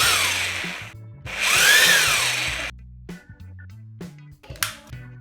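A rotary hammer drill in drilling mode whirs loudly in two bursts, rising and falling in pitch as it spins up and winds down, followed by quieter handling clicks and knocks.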